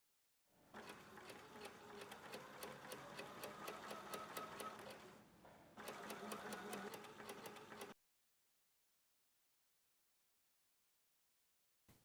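A sewing machine stitches a set-in sleeve over pins in two rapid, even runs of close mechanical clatter, the first longer, separated by a brief pause, then silence.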